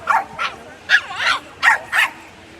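A dog on a street in Benidorm, Spain, barks in a burst of about five short, sharp yips and woofs, loud and close, with faint background noise between barks.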